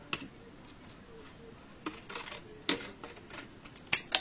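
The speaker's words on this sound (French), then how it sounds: "Que je vais couper droit." Paper being cut with scissors during a craft project, several faint, quiet snips and crisp clicks spaced irregularly over a low background, with a sharper snip near the end.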